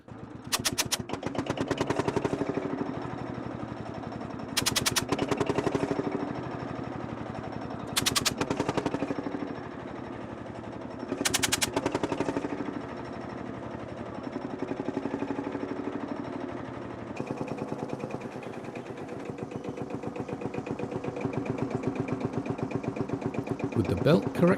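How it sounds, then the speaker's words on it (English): A vintage Field Marshal tractor engine runs at a harvest, with a steady low single-cylinder thump throughout and several loud, sharp bursts of rapid popping that break over it at intervals. "The power for this will be provided by the Field Marshal tractor."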